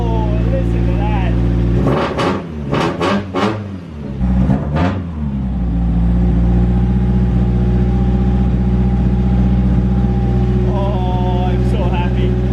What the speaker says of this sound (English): Good to hear that engine again.